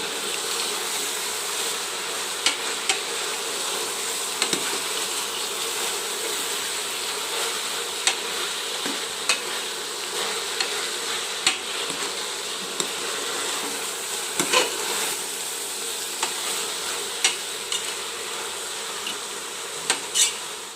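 Sprouted horse gram and eggplant sauté in a hot pan with a continuous, even sizzling hiss and occasional faint stirring scrapes, close and steady, with no talking.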